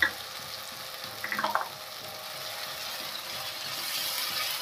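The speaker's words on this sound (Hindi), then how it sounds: "बस अब सीधा सिंपल हींग डाल देनी है और भुना हुआ जीरा डाल देना है" Asafoetida and roasted cumin hit a hot pan and give a steady, moderate sizzle that holds throughout, with a brief clatter of stirring early on and no speech.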